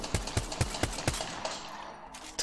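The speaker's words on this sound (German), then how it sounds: "Ich hau jetzt einfach mal alle 10 Schuss raus, um einfach mal zu zeigen, was das für ein Schadensoutput ist." Rapid weapon fire in Apex Legends: about six heavy, evenly spaced shots ring out in quick succession, then fade into a trailing echo, with no talking over them.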